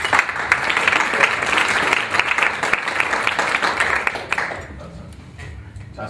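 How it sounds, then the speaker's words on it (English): An audience at a seminar gives a warm round of applause, dense clapping that holds steady for several seconds before thinning and fading out near the end. "So let's give Colin LaLonde a warm round of applause."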